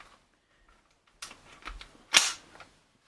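An SKS 16-inch rifle with a Tapco stock is dry-fired, giving a few quiet mechanical clicks and a sharper snap of the trigger and hammer, close and isolated in a quiet room.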